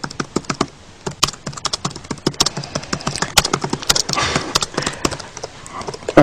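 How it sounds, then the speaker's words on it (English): Rapid typing on a computer keyboard during an interview, a dense, steady run of sharp key clicks close to the microphone that speeds into quick bursts and continues throughout. "You're a very fast typer."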